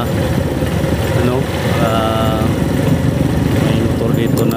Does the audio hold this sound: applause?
no